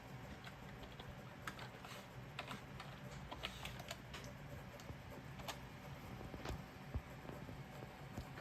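A password is typed on a computer keyboard in a run of quick, close, irregular key clicks, some taps louder than others, while a faint steady background hum sits underneath.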